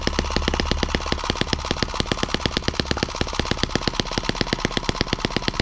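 A freshly unboxed M17B small engine runs at its first start with a loud, rapid, evenly pulsing buzz of firing strokes, close up and steady throughout, no voices.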